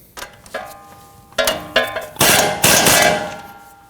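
Castle nut being snugged down on a tie rod in the steering knuckle of a 2015-2022 Chevrolet Colorado, with loud close metallic clanks and scraping, then a longer grinding ratchet run.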